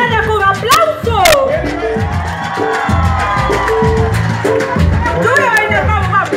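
A large outdoor crowd at an African Heritage Month opening event in Tegucigalpa cheers, whoops and yells loudly, with scattered applause and whistles forming a dense, continuous roar close by.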